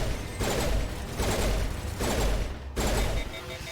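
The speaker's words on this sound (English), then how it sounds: "Man, this pistol does no damage." Pistol fire in Mass Effect Legendary Edition: four bursts of shots, each lasting about half a second, spaced at a steady rhythm and loud up close over a dense background of game sound.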